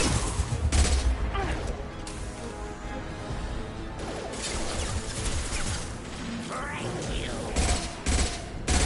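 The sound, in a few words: gunfire in the video game Mass Effect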